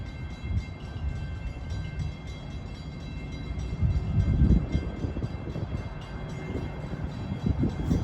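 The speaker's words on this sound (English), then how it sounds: "This is train 666 en route from Hunters Point Avenue to Port Jefferson." Long Island Rail Road train at New Hyde Park station during the evening rush, a steady low rumble of rolling cars that swells midway and again near the end, with a faint tone running through it.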